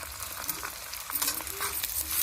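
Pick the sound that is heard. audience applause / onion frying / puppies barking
onion frying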